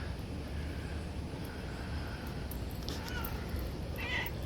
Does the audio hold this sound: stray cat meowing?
yes